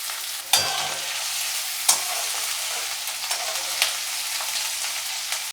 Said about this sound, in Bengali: পেঁয়াজটা রসুনের সঙ্গে একটু সাঁতলানো হবে।